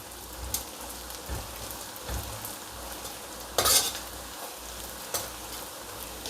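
Shallots and garlic sauté in oil with a soft steady sizzle and intermittent stirring scrapes, one sharper burst of crackle midway, close with no talk.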